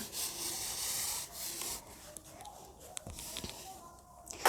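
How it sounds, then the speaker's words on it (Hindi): A board being wiped clean of writing, with a scratchy rubbing that comes in a few strokes. It is loudest at the start, then turns quieter and broken up by small knocks. "चलो इसको रब कर दूं मैं, फिर लिखते हैं लाइन।"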